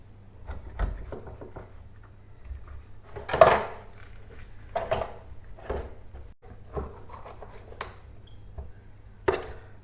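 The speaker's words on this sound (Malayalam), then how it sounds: "ചിക്കൻ ഒന്ന് കട്ട് ചെയ്ത് തീർന്നു കഴിഞ്ഞാൽ പിന്നെ പരിപാടികൾക്ക് പോകാം" Frozen chicken being cut for a cooker biryani in a home kitchen gives a scattered series of sharp knocks and clacks of knife and dish, with a low steady hum underneath.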